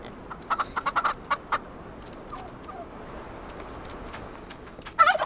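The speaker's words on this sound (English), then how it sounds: "Let's go ahead and head right over there and get a new turkey." Turkey gobbles and clucks in the farming video game Farm Together, a run of quick bursts early on and a couple more near the end over steady game background ambience.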